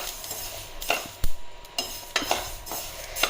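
Mustard seeds roasting dry in a pan while being stirred, giving a soft continuous rattle with several louder scraping strokes and clinks of the spoon against the metal, close and fairly quiet.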